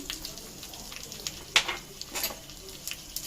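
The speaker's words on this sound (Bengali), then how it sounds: "এবার এখানে দিয়ে দিচ্ছি আমি শুকনো লঙ্কা আর কাঁচা লঙ্কা ফোড়নে, দিয়ে দিচ্ছি এখানে 1 চিমটে হিং, আর দিয়ে দিচ্ছি এখানে কিছুটা আদা কুচি।" Dried red chillies, green chillies, a pinch of asafoetida and chopped ginger sizzling in hot ghee for a vegetarian soybean curry, a soft steady crackle with a few sharper pops and stirring scrapes, close but fairly quiet.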